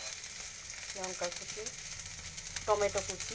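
Chopped onion browns in a pan for an eggplant bhorta, a soft steady sizzle heard up close while someone speaks briefly over it twice.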